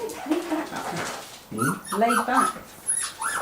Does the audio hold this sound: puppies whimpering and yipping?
yes